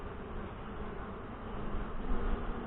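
Saskatraz honey bees hum in a steady, dense drone from an open hive in northwest Wisconsin, the buzzing close and continuous without a break.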